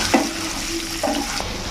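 Sliced onions and chopped garlic frying and being stirred in a pan for chilli chicken, a steady close sizzle with a couple of brief scraping stirs over it.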